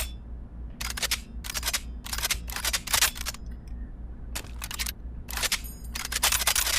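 Metallic clicks and clacks of an SKS rifle's charging handle being worked in the VR shooter Pavlov, several sharp bursts in uneven groups with short pauses between, close and crisp over a low steady hum.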